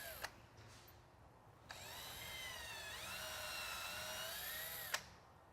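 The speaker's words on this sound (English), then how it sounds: "we're going to drill that with the proper size drill bit" A power drill with a 3/16-inch bit pre-drills holes in a boat transom for trim tab brackets, whirring steadily for a few seconds at fairly close range, its high motor whine rising slightly, bracketed by brief clicks.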